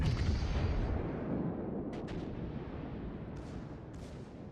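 Battleship Yamato's primary guns firing in the naval game World of Warships, a heavy booming blast that rumbles and decays, followed by a few faint distant cracks.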